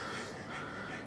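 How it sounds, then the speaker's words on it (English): A dog pants rapidly on a hot day, a close, continuous breathy rasp filling a short indoor moment. "If you can hear my dog panting, he's going wild."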